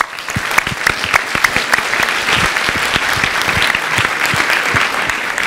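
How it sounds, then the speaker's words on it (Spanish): An audience at a motivational talk by Jürgen Klarić applauds a man from the crowd, dense clapping filling the room at a steady, fairly loud level throughout. "Un aplauso para el señor"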